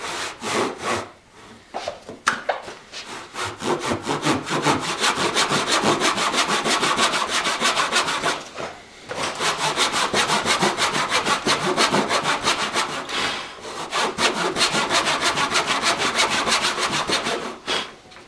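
Hand saw cutting a dado joint in wood: steady, close rasping back-and-forth strokes that run almost continuously, broken by a few brief pauses, with no talking.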